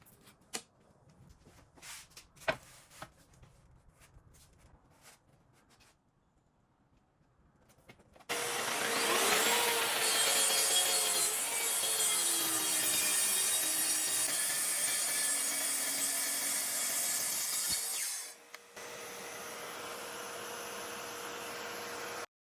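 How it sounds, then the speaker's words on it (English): A few light knocks and taps, then a plunge saw whines up and cuts a wooden tabletop to length for about ten seconds before spinning down. "After cutting it to size with my plunge saw"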